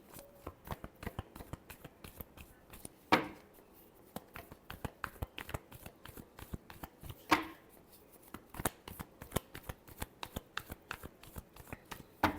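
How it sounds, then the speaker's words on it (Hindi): Tarot cards are shuffled by hand in rapid, repeated riffling bursts and crisp slaps, close and fairly loud, with two sharper bridge-like snaps standing out. "Last shuffle."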